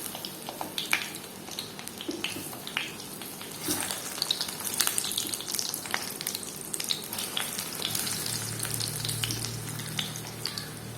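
A batter-coated stuffed banana fries in hot oil, giving a steady crackling sizzle with scattered pops and an occasional stir, heard close up without any voices.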